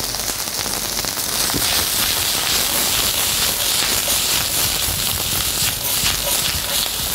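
Red chard with shallots and garlic sizzles and hisses in a hot pan, a steady close crackle like rain on a surface, with faint talk beneath.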